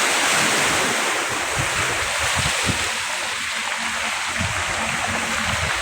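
Sea waves wash onto the shore at Ilijan, Batangas, at high tide, a steady broad roar of surf with gusty wind buffeting the microphone and close splashes breaking through.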